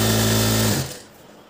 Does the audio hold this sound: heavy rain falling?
no